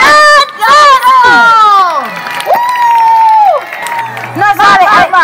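A live audience in Alcorcón greeting the performer Francesco with loud, close cheering and high-pitched shouting voices that rise and fall in overlapping bursts.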